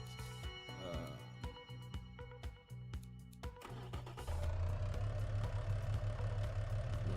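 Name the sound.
V6 car engine sound in the video game Automation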